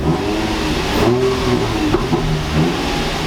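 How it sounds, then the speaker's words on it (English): A G35 car engine with a stock muffler and deleted resonator revs a couple of times with the exhaust valve closed, a muted, smooth rising and falling drone close by, no speech. "So let me give it a couple revs."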